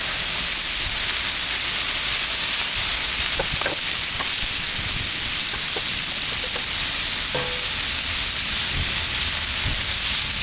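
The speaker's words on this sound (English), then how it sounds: "Throw the shaved steak on." Shaved steak and onions sizzle loudly on a Blackstone griddle, a constant close hiss with occasional scraping and tapping of a spatula, no voices.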